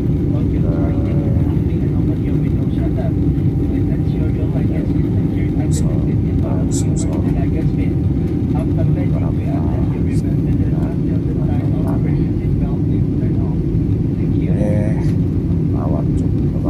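Airplane cabin noise on a Makassar to Palu flight: a loud, unbroken low engine drone and rushing hum fill the space, with voices talking over it.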